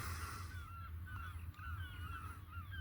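Seagulls calling at a dock at dawn, several loud, near, repeated squawking cries over a low steady background hum, with no talk.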